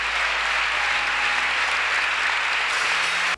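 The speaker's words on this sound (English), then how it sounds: "Clap your hand for Jesus." A church congregation claps hands together in steady, dense applause that fills the space continuously and loudly, without pauses or voices over it.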